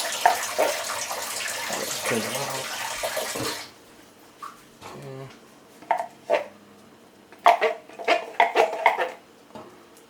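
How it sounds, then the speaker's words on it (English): Vegetable stock pours into a pot of thick lentil curry, a close, steady liquid splashing that lasts a few seconds and then stops, followed by clinks of a pot and utensils with talking. "Try to dilute it with some of the veg stock I'm gonna add."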